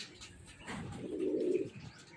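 Pigeons kept by a racing-pigeon fancier produce a soft, low cooing phrase rising and swelling at mid-clip, close by, with faint chirps around it and no talking.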